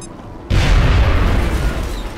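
Grenade blast in XCOM, a sudden loud boom after a near-silent half second, then a heavy, broad rumble that lingers and slowly fades.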